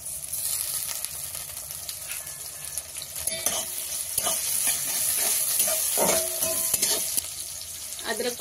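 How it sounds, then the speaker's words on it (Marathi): Chopped onion sautéing in a pan for a banana-flower bhaji, a steady close sizzle and fry running throughout with occasional stirring scrapes and clinks of the spoon against the pan. "आता टाकणार आहे कापलेला कांदा। कांदा चांगला गुलाबी रंग येईपर्यंत परतून घ्यायचा आहे"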